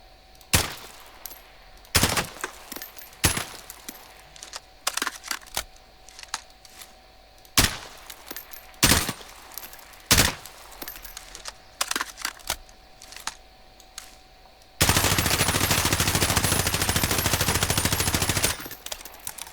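M4A1 rifle fire in Call of Duty Warzone, sharp single shots and short bursts spaced irregularly across a firing range, ending in one sustained automatic burst lasting several seconds.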